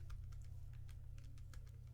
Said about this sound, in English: typing that into my calculator